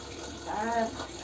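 Water is poured over a child being bathed, a short splashing gush lasting about a second beneath a brief voice.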